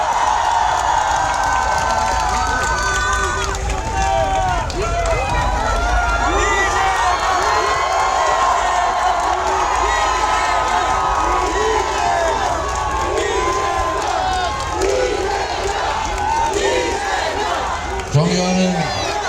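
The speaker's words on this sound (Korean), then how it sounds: "박수로 맞이해 주십시오." A large crowd at a Democratic Party campaign rally outside Dongdaegu Station in Daegu cheers and applauds loudly. Whoops, shouts and clapping overlap in a continuous roar for nearly twenty seconds, with voices calling out throughout.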